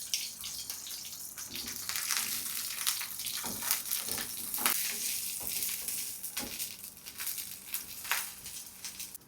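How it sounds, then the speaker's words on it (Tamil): Small onions sauté in hot oil with a steady, close crackling sizzle, broken by scraping stirs throughout, no talk. "இப்போ எண்ணெய் நல்லா காஞ்சிட்டு அதில் இந்த சின்ன வெங்காயத்தை போட்டு நல்லா வதக்கிடணும்."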